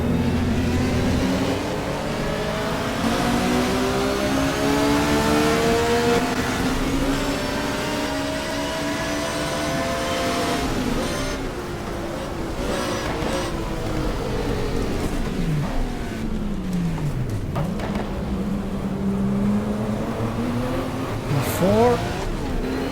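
A BMW 635 race car engine in the GTR2 racing game, 1987 WTCC round at Wellington, revs loud and close, climbing and dropping through repeated gear changes with a steady drone throughout and a voice talking over it.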